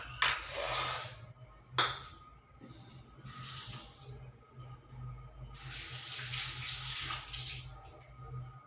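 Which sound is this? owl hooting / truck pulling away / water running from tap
water running from tap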